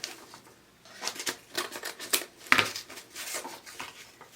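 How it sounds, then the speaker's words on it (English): Several crisp snipping and rustling sounds as scissors cut ribbon against cardboard, irregular and close up, with a sharper cut near the middle and no voices. "I'm going to slide my scissors in between the cardboard and the ribbon and cut."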